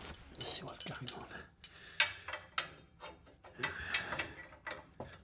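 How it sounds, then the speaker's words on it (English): A 13mm breaker bar and spanner work on an exhaust bolt under a BMW E36, giving close metallic clicks, ratcheting and clanks in uneven bursts, with a person talking over them. "Let's put a 13mm on. Breaker. 13mm spanner."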